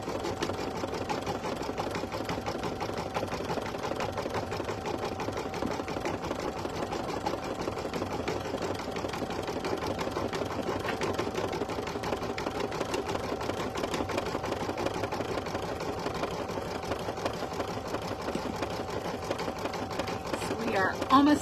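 An embroidery machine runs a satin stitch along the sides of a candy appliqué wrapper, giving a steady, rapid mechanical whirring and needle chatter that continues evenly and fairly close throughout.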